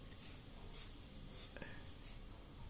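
Pen or marker scratches on paper in short, soft, periodic strokes, faint and close, while someone speaks quietly.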